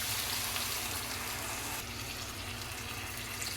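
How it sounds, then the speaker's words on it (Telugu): Water poured steadily into a pot of prawn and drumstick curry with eggs, a continuous close gushing splash lasting a few seconds with no voices. "ఇప్పుడు నేనైతే దీంట్లో తగినన్ని వాటర్ అయితే పోసుకుంటాను."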